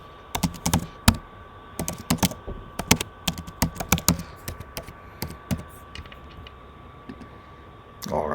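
A username and password being typed on a computer keyboard, with irregular bursts of crisp key clicks, close and clear, thinning out toward the end.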